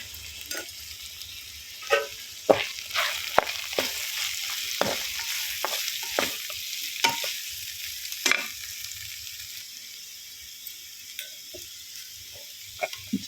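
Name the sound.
ivy gourd (dondakaya) frying in a pan with chili powder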